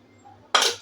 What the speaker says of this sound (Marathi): आणि आता तवा गरम व्हायला ठेवलाय.